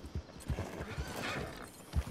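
A horse's hooves clip-clop in a steady uneven rhythm, close and fairly loud, with a whinny mixed in among the hoofbeats.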